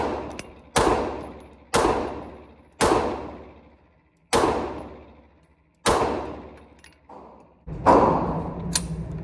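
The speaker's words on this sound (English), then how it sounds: "Here I am shooting the 50 round drum from promag with the fx9." Loud, close gunshots from an FX9 fed by a Promag 50-round drum magazine ring out at an uneven pace: about seven sharp reports spaced one to two seconds apart, each trailing off in a long echo.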